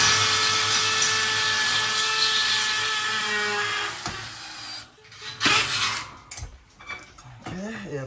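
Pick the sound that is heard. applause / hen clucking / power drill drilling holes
power drill drilling holes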